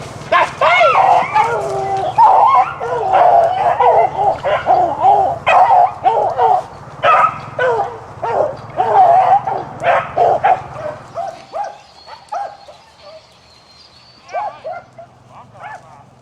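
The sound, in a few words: hunting dogs barking and yipping at a rabbit hunt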